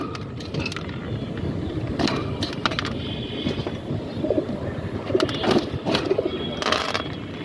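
Domestic pigeons coo softly in a loose, irregular pattern, low and close against a steady rustling background, with occasional brief flutters and thumps nearby.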